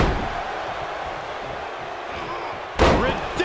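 A standing shooting star press lands in WWE 2K22 during Austin Theory versus John Cena at WrestleMania 39: a sudden loud, sharp slam near the end cuts through a steady arena crowd roar, followed by a smaller thud.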